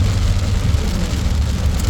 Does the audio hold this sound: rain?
yes